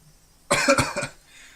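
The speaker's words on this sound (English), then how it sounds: "That wasn't a normal coughing sound. Vomiting? Or was it blood?" A harsh cough heard over a phone line in the Higurashi video game, a single close burst of three or four rapid rough hacks lasting under a second, then quiet.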